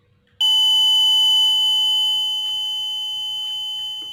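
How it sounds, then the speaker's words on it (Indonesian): A homemade house doorbell switches on abruptly and holds a loud, piercing electronic tone like a fire alarm, with faint wobble in the pitch for about four seconds. "Ada bunyinya. Bunyinya seperti alarm kebakaran."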